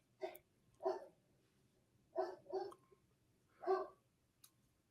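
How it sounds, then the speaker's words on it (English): Dogs bark in a few separate short yelps, one pair coming close together, faint and somewhat distant over quiet background hum, with no talking. "I hear the dogs barking."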